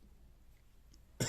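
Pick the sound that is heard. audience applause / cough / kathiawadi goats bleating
cough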